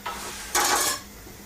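A spoon stirs food in a cooking pot with bay leaves for a shepherd's pie, giving a short, soft scraping swish over a quiet kitchen background.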